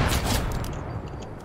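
Rapid gunfire in an Xbox online shooter match, a quick close burst of shots that fades over a second and a half.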